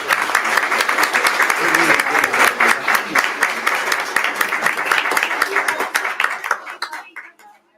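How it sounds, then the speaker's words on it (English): Applause from parents and attendees at a school district meeting, a busy round of hand clapping that thins out and fades to a few scattered claps at the end. "one last round of applause"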